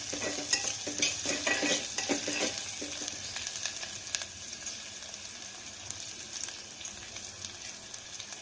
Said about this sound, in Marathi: कांदा होऊ द्यायचा, थोडा नरम पडू द्यायचा कांदा